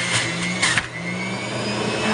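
A juicer whirs steadily as apples are fed through it for a green juice, a continuous motor drone with a brief louder grinding surge near the middle, no talking.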